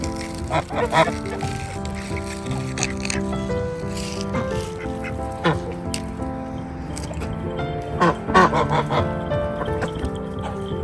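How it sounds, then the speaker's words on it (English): A goose honks repeatedly while eating, its nasal calls mixed with wet, squishy pecking and chewing noises at close range. Occasional voices can be heard in the background. "such a good goose, Gwendolyn."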